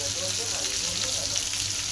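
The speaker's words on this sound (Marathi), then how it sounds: "आपली मच्छी कशी तळली बघा" Fish coated in masala frying in oil in a pan, a steady loud sizzle with crackling spatter, close and continuous, no talk over it.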